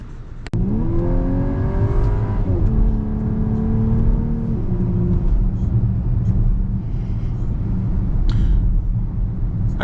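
A Volkswagen Atlas crossover with an 8-speed automatic accelerates hard in sport mode, its engine note rising loudly and steadily before an upshift drops the pitch, then droning on under continuous road rumble from inside the cabin.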